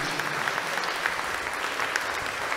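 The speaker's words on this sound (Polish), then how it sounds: "Gorące brawa, ksiądz Aleksy i ksiądz Adam." Warm applause from a church congregation for two priests of the Missionaries of the Holy Family, a thick, continuous patter of many hands clapping loudly and evenly throughout.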